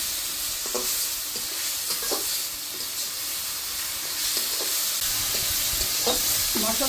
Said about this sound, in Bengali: এখন আজকে দিলে আমি মশলাটা কষাইতে থাকবো।